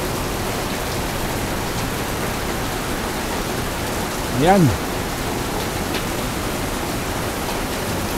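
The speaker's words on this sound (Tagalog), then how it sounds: "Tinignan na natin kung anong itsura pag bumuhos ang ulan." Heavy rain pours steadily onto a barangay hall terrace with runoff from a gutter, a dense even roar that holds throughout while a voice briefly speaks midway.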